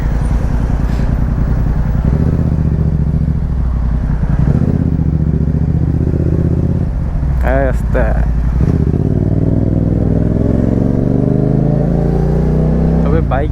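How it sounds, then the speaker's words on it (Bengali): A motorcycle engine hums steadily and close as the bike rides along near Kuala Lumpur in the rainy season, with a person talking over the running motor the whole time. "আবার গাড়ি রেখে বাইক নিয়ে বেরোইছে"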